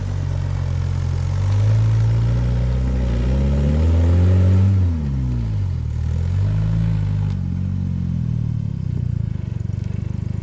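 A Toyota rock buggy engine crawls up a rock climb, its low, throaty note rising and falling in steady revs, loud and close throughout with no talking.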